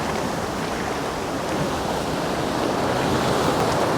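Steady wash of surf close by at Whale Beach, a broad continuous roar of waves breaking and splashing with faint wind noise, no voices.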